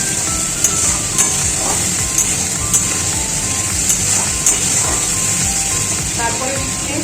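Tomato paste with a pinch of salt sizzles loudly in a hot pan, a dense steady hiss with regular scraping strokes of a spoon stirring through it.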